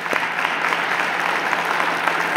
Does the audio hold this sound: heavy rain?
no